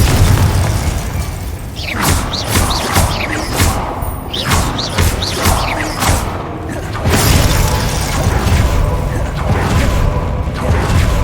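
Confringo and other combat spells in Hogwarts Legacy produce loud, dense booms, thuds and crackling magical bursts in quick succession over a constant roar of battle noise.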